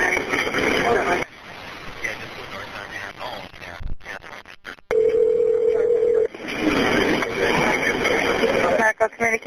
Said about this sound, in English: You're going to hear a dial tone in the phone ring